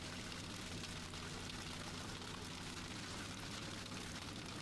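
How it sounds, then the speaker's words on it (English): Faint, even hiss of rain falling during a storm in a tornado research and rescue video game, holding steady without a break. "And there's the rain."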